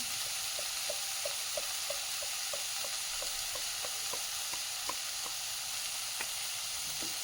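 Pumpkin masala spices with asafoetida powder sizzling in a pan, a quiet steady hiss with light scattered crackles and occasional stirring scrapes, no talking.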